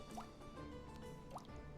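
Water being collected in a cozy village alchemy shop video game, two soft bubbly drip-and-fill blips over a quiet hum of game background sound.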